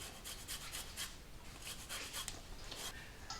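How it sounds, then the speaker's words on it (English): A microplane grater rasps across a lime peel in quick, faint scraping strokes, a soft rhythmic zesting close up with no talking. "we're going to use a microplane grater. And I'm going to add some zest"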